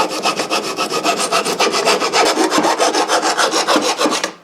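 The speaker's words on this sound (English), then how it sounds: "So I think I'm going to just take a file to that and get rid of some of those sharp edges." A hand file scrapes back and forth over worn, sharp-edged snowblower metal in steady rapid strokes, close and loud, with no talking.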